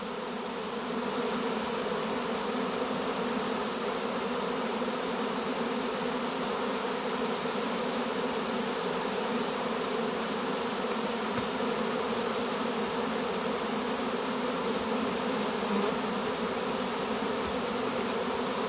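A dense swarm of honey bees hums loudly and continuously, a steady, even buzz with no voices.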